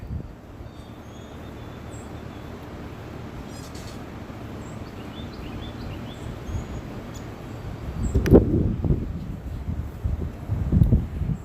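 Steady low rumble of wind buffeting outdoors, with stronger gusts near the end and faint birds in the background.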